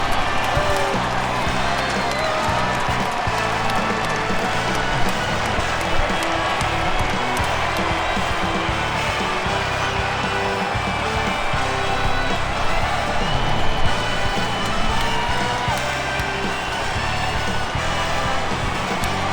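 Hometown crowd at a postseason baseball game, a Yankees American League Division Series contest, cheering after the win: a dense, steady wash of crowd roar and applause throughout, with a voice talking over it.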